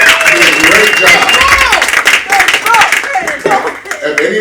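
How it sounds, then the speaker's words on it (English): Audience applause at a high school poetry slam, a burst of loud, close clapping from a crowd that carries on for several seconds and then thins out, with voices over it. "I want everyone to give her a round of applause."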